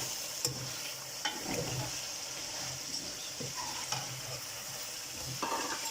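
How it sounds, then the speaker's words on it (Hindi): Potatoes being stirred into a simmering meat curry make a soft continuous sizzle with a few occasional spoon scrapes against the pot, fairly quiet and close, with no voice. "तो यहाँ से आलू को करेंगे मिक्स, जिससे अच्छे तरीके से मिक्स होता है।"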